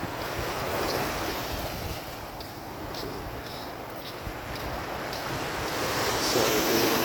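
Sea surf rolling onto a black sand beach, a continuous broad wash of breaking waves with heavy wind buffeting the microphone, swelling slightly toward the end, with no voices.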